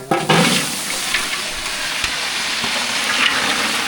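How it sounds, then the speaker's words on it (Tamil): Onions and tomatoes for a chicken gravy sauté in a pan for a celebration feast, giving a loud, steady sizzle with a few sharp clatters and stirring scrapes near the start. "சிக்கன் கிரேவிக்கு வெங்காய தக்காளியெல்லாம் நல்லா வதக்கிடுச்சு"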